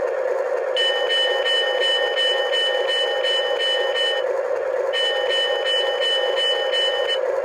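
Electronic bell of a Menards O gauge Chicago Northwestern diesel locomotive model, ringing in rapid, evenly spaced dings over a steady hum, in two runs separated by a short pause, with an abrupt cutoff.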